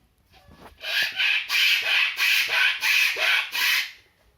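A voice mimics a frame saw cutting through PVC pipe, with about seven rhythmic rasping strokes in quick, even succession, close and fairly loud.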